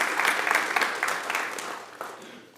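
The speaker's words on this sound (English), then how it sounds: "So if we could please show our appreciation and give them a round of applause." A small outdoor crowd at a bell unveiling gives a short round of applause, brisk clapping that fades away within a couple of seconds.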